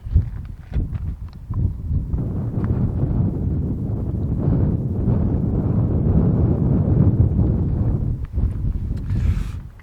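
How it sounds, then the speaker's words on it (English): Strong wind buffets the microphone on a windy Alaska hilltop, a loud continuous low rumble with gusty surges throughout and no talking. "Sorry for any wind noise, but it is always windy up at the top here."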